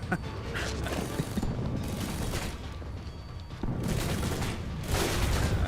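Auto turrets fire in Alpha Protocol, a dense, continuous mechanical rattle of rapid shots that swells and fades in loud bursts.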